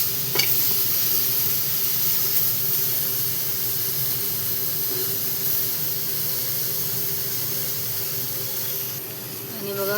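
Tomatoes roast in a pan while cooking for a mixed biryani, a steady close sizzle and hiss holding through with a faint stir, fairly loud and continuous with no talk over it.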